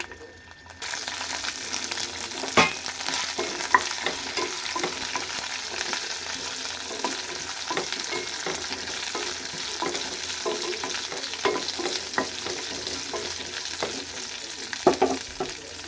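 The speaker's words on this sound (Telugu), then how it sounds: "మిరపకాయలు వేయించి పెట్టుకోవాలి పచ్చిమిర్చి ధనియాలు మిరపకాయలు వేయించుకోవాలి" Dried red chillies, green chillies and coriander seeds fry in a pan with a continuous close sizzle, punctuated by repeated scraping stirs of a spoon.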